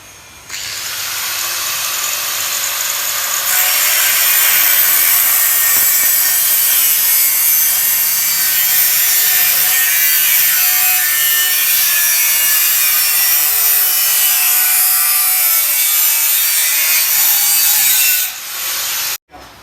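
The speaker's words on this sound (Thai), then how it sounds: "ใช้ลูกหมูนะครับ ใบตัดเหล็ก4นิ้วนะครับในการตัดนะครับ" An angle grinder fitted with a 4-inch steel cutting disc slices through steel fence framing, giving a loud, harsh, continuous hiss and screech that holds steady for nearly twenty seconds before stopping abruptly.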